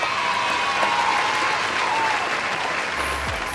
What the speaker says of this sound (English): let's give a round of applause to the fact that the circuit breaker extended